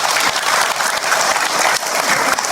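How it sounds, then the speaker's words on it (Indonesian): Audience applause during a Ramadan question-and-answer session with a religious teacher, steady dense clapping from a crowd filling the whole stretch, loud and continuous without talk. "Tepuk tangan untuk kita semua."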